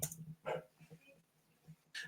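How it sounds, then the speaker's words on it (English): A few short, sharp dog barks sound at a distance in an otherwise quiet space, separated by soft gaps. "Dogs are barking now"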